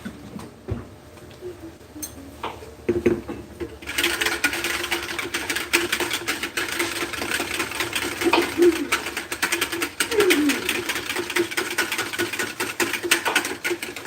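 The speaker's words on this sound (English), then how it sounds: "I'm just going to add 1/3 cup to that. And then we're just going to whisk it" Powder being whisked into liquid for a Wendy's-style chili, a busy rhythmic scraping and clicking of the whisk in a bowl that starts after a few quiet seconds and runs steadily and close.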